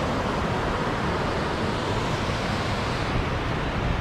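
Ocean waves at Kuta Beach, Bali, form a continuous close, loud wash of surf with an even, unbroken roar and no voices.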